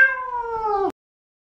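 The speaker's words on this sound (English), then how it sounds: "Cat." A domestic cat gives a single drawn-out meow, close and clear, lasting just under a second before cutting to silence.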